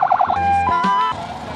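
A short burst of siren wails, shifting abruptly between pulsing and steady tones, loud and near, with no speech.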